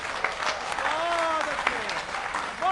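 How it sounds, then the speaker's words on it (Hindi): An audience at a Hindi kavi sammelan poetry gathering breaks into strong, continuous applause, with voices calling out over the clapping. "वाह वाह वाह, जोरदार तालियां"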